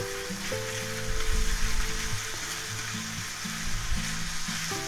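Ground meat frying in a pan, a dense, close sizzle that holds steady and swells a little as it is stirred and crumbled.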